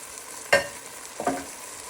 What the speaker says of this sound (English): And we're just stirring in our tomatoes into the pan